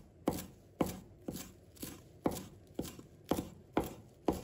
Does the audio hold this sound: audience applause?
no